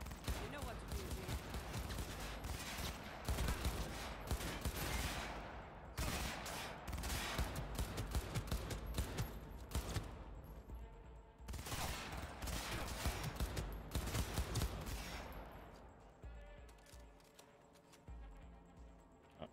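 Rapid bursts of automatic gunfire from the video game Cyberpunk 2077, loud and dense, running almost continuously for about fifteen seconds with short gaps, then tapering into quieter, fading shots toward the end.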